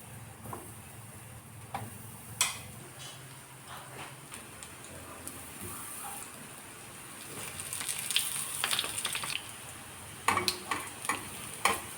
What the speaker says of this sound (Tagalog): Dahil mainit na itong kawali at mantika kaya naman pinaglalagay ko na itong mga saba na aking ipiprito.